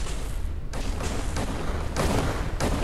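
Gunfire erupts in Fallout 4's Far Harbor expansion: a string of sharp, booming shots, roughly five bursts at irregular intervals over a few seconds, heard against a dense, noisy background.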